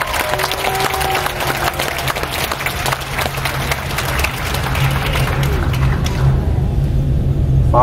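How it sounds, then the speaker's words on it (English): Audience applause for a crew member, the human resources director, aboard a cruise ship, dense sustained clapping over a low engine rumble, tapering near the end. "Got the biggest applause"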